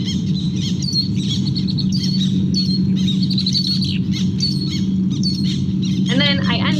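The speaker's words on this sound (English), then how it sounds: "And you can also hear the sound of the black tern." Black terns call repeatedly over reed flats in a marsh, with short chirping and squawking notes in quick bursts above a steady low background hum.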